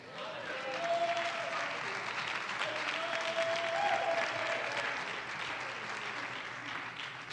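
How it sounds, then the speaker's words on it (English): A church congregation claps through an apostolic preaching service, a steady wash of applause lasting several seconds at moderate distance, with faint voices blended underneath. "I hope y'all still clapping when I'm done"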